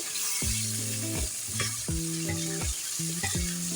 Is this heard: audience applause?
no